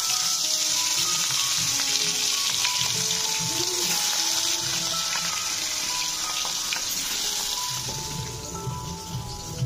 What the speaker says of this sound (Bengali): আমি মাছগুলো ভাজবো